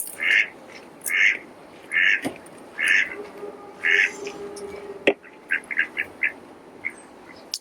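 A duck quacks in a steady, evenly spaced series, then breaks into quicker, softer quacks. The calls are clear and close, with little else around.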